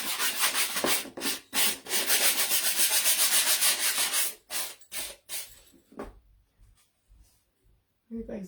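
Close, loud strokes of sandpaper rubbing across the back of a wooden stocking decoration, several bursts over the first five seconds, then quieter scattered handling noises with a brief voice near the end.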